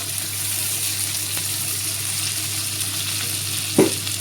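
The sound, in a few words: chopped tomato added to frying pan, sizzling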